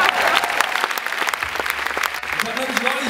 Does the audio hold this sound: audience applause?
yes